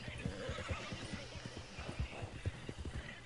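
Horse in Red Dead Redemption 2 whinnying, with steady clip-clop hoofbeats pattering underneath throughout, fairly quiet and close.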